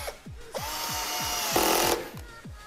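Power drill driving the final screw into a square wooden subwoofer box, a close whirring motor that rises in pitch and strains as the screw seats, with a rhythmic low ticking underneath.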